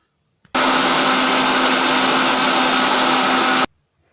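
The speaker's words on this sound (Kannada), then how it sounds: "ಮಿಕ್ಸಿ ಮಾಡೋಣ ಇದನ್ನು." A mixer grinder blending a banana milkshake with milk and honey, a loud steady high-pitched whir running alone for about three seconds, starting and stopping abruptly.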